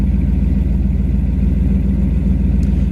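A 1964 Chevrolet Impala SS with dual exhaust idles steadily and close by, a deep, even low rumble with a regular pulse and no revving or voices.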